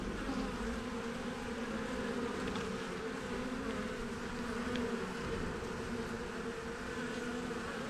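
Honeybees in an opened hive during a December bee yard inspection make a steady, close, dense buzzing drone that holds evenly for the whole stretch, with no talking.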